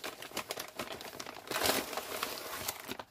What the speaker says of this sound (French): On va retirer tout ce qu'il y a dans l'enveloppe.